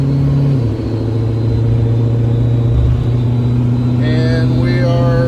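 A single-turbo Nissan pulls hard at partial throttle, its loud, steady engine drone filling the cabin before the pitch climbs sharply near the end.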